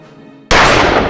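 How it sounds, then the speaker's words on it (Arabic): A single loud gunshot cracks suddenly out of a quiet background with a faint hum, followed by a brief ringing decay. "كم طلقة؟ اتنين."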